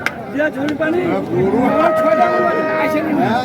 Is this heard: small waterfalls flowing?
no